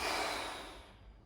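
Deep breathing during a home golf fitness workout, a single long, airy exhale that starts fairly strong and tapers off over about a second, close and alone with no talk.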